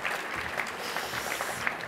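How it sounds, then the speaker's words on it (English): Applause at an industry awards ceremony, steady crowd clapping heard from a distance and fairly faint, lasting a couple of seconds. "If we could clap for that too."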